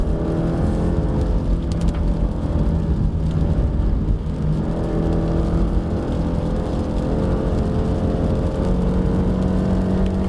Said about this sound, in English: Okay, we are driving in the wet with all-wheel drive.